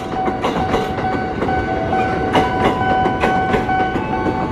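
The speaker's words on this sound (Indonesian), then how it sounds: "KRL yang lewat ini masuk tujuan Bekasi" KRL commuter train bound for Bekasi rolling past a Jakarta level crossing, close and loud, with a continuous rumble, repeating wheel clacks over rail joints and a steady electric hum.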